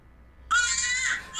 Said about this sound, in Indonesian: tersentak oleh suara tangisan boneka bayi elektronik di tengah tidurnya.